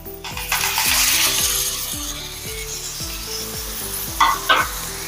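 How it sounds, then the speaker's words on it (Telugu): Fish for a fish stew drop into a hot pan and sizzle steadily, with repeated rhythmic scraping and stirring strokes and a couple of sharp clinks near the end, close and clear. "ఇప్పుడు ఇందులో ఈ చేపలన్నీ వేసేద్దామండి."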